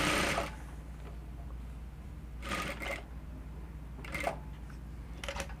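A sewing machine stitching blouse yoke fabric in a few short bursts separated by quiet pauses, close and moderately loud, with no voices.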